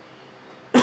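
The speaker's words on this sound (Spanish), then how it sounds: "Perdón por la tos" A single sharp cough from a person, close and loud, bursting out abruptly after a near-silent moment.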